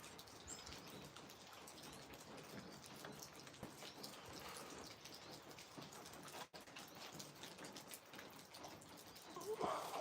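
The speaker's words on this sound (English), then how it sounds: "We've got freezing rain out today." Freezing rain falls steadily outdoors on a cold day, a continuous fine patter of drops spread across the whole stretch at moderate level, with faint birds chirping in the background.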